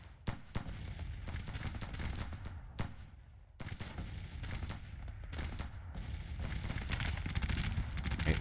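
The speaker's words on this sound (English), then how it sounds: "make sure all of our artillery is firing as best they can" Civil War-era artillery and musketry in a battle strategy game, with sharp booms and cracks popping repeatedly over a continuous rumbling battle din that grows louder toward the end.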